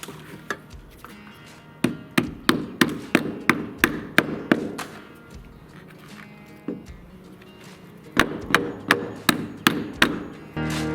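A hammer drives nails into floor joists from above in two bursts of about seven sharp, evenly spaced blows each, separated by a pause with a few lone knocks.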